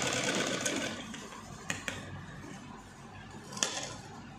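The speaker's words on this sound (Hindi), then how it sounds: "आधा इंच पर सिलाई लगा लेंगे इसकी, यहाँ से ऐसे।" A sewing machine stitching cloth for a small night dress, a continuous close whirring hum with a few sharp clicks, running alone without talk.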